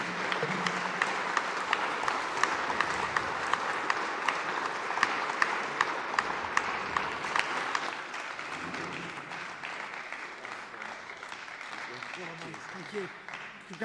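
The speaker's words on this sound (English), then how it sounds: "Please give a massive round of applause for Mo." Applause at a regional volunteer awards ceremony, a room of people clapping steadily with sharp individual claps standing out, easing to softer clapping under talk in the second half.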